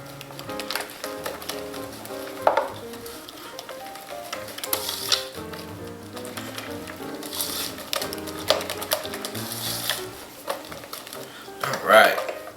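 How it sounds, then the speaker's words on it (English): Eggs are whisked into pecan pie filling in a bowl, giving a soft, continuous rhythmic clatter with occasional louder clinks of the whisk against the bowl, close by and fairly quiet. "We'll beat that egg in just like so."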